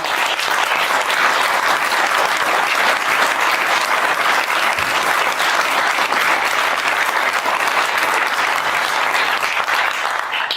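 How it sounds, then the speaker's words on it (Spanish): An audience applauds a speech by Argentina's president to business leaders, with steady, dense clapping from a large crowd that holds loud and even throughout. "les dedico el aplauso que ustedes tuvieron recién"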